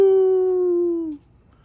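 A voice imitates a wolf howl in a single sustained, loud, clear tone about a second long that slides slightly downward before cutting off, alone with no other sound.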